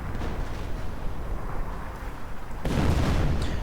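Artillery fire in a real-time strategy battle aimed at a base as units retreat, heard as a continuous rumbling barrage with a louder, heavier boom landing near the end.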